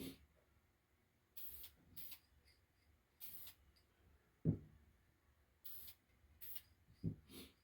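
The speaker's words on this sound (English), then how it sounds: "So I'm just kind of spraying them real nice." Several short hissing bursts from a spray can coating homemade coasters, each about half a second, separated by pauses and a couple of soft knocks.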